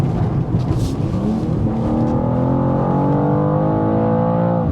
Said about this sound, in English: This car is accelerating like a rocket.